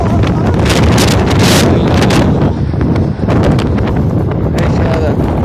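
Strong storm wind gusts batter the microphone in loud, roaring bursts, rumbling and buffeting continuously with brief dips between blasts.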